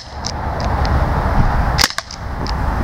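Gas-powered airsoft replica pistol fired in a few sharp, loud cracks close by, with faint clicks and hiss around them.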